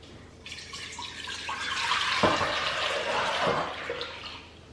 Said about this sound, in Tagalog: I think I need to transfer the water to a bigger pot